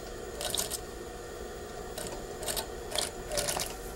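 A sewing machine stitches bias trim onto a garment in short, buzzing mechanical bursts separated by pauses, a quiet whirring chatter repeated several times against a faint background hum.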